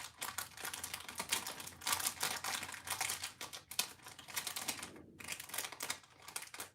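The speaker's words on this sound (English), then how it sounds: "a little crinkling as we open each bag" Plastic parts bags for a small globe model kit crinkle and rustle as they are opened one after another, a busy close-up crackling that continues almost throughout with only brief pauses.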